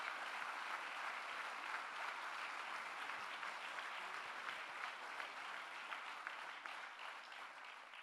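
Applause from an audience at a political talk, continuous and even clapping heard from a moderate distance and gently fading toward the end.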